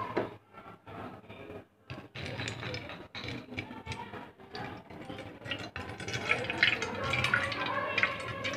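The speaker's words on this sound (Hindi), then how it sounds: "और ये ग्लास, इसमें पानी है जो कि मैं इसके ऊपर डालूंगा।" Water is poured from a glass onto a blank paper page during a magic trick, giving a faint, soft trickle and splash that runs for several seconds in a quiet room.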